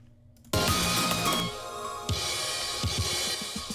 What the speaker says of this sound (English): it just has a snare hitting, but slowly ascending using the velocity knob.